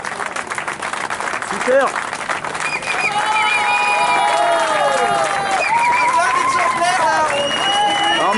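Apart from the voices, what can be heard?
applause and cheering from crowd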